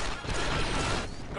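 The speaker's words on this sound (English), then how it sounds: "I'm out. Reloading." Weapon reload in Star Wars: Republic Commando, a brisk run of mechanical clicks and clacks lasting about a second, followed by a short metallic snap as the action locks, close and clear.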